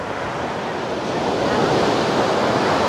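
Sea waves wash in continuously at a seaside viewpoint, a steady broadband roar of surf with some wind that grows slightly louder toward the end, with no voices.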